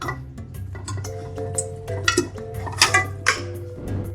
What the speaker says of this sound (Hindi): अब इसको हम प्रेशर कुकर में डालेंगे।